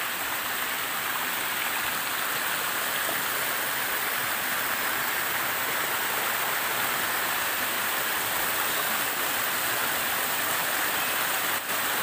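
Forest river water flowing steadily in a broad, constant rush, close and fairly loud, with no voices.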